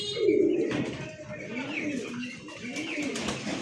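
Pigeons at a farm coo in soft, rolling bursts close by, one call after another, while someone talks over them.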